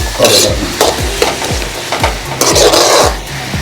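Chopped onion sautés in a hot pan with a steady sizzle, while a spatula scrapes and stirs in quick repeated strokes, loud and close.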